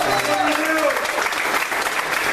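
Church congregation applauding together in a sustained, dense round of clapping, with a few voices calling out over it.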